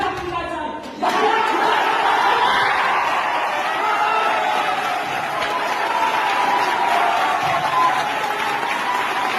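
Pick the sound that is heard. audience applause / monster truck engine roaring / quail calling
audience applause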